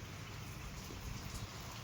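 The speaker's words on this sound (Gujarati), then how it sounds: "વરસાદ ચાલુ થઈ ગયો કમ્પ્લીટ" Steady rain falling on a farm, a dense continuous patter with no other sounds standing out.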